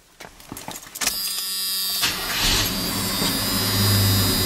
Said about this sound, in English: That whining you hear is the power steering pump.